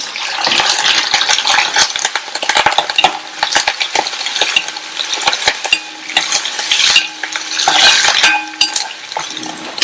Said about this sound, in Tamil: வெங்காயம் 2 நிமிஷம் போல வதங்கினதும்